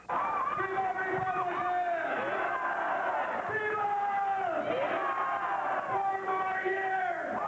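A large crowd at an outdoor political rally in Guam cheers loudly and continuously, a dense, close roar of voices with shouting peaks throughout.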